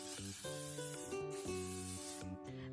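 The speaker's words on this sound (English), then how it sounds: "I'm gonna use the L'Oreal Infallible 3-second setting mist" L'Oreal Infallible 3-second setting mist sprayed from its bottle, a steady airy hiss running through the whole stretch beneath louder background music.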